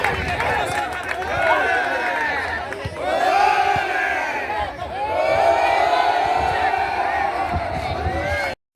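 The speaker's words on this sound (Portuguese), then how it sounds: "o torcedor, que não é bobo, já sem paciência, começou a vaiar o time e dar olé em cada passe de bola" Football fans in a stadium at a Parnahyba SC home match against Atlético Piauiense jeer and chant in rising and falling waves of massed voices, loud and sustained, with swelling shouts every few seconds.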